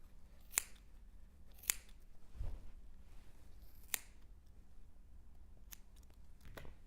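Scissors snip through crochet yarn strands for a scarf fringe, giving a few sharp, quiet cuts spaced a second or two apart over a soft room background.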